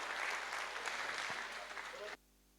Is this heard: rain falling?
no